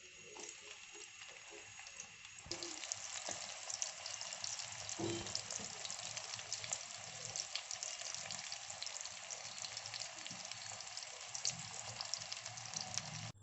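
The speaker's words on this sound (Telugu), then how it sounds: "ఆనియన్ని బ్రౌన్ వచ్చే వరకు వేయించుకోవాలి." Onions frying in oil until browned, a steady dense sizzle that jumps louder after a couple of seconds and holds evenly, with faint clinks and scraping beneath, no voices.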